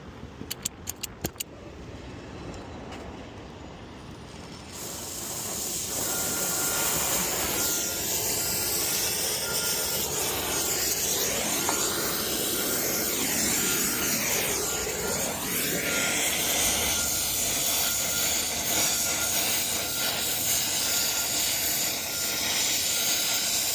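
A few metallic clinks, then a brazing torch ignites into a loud, steady roaring hiss that holds for the rest of the clip, during HVAC rooftop unit repair.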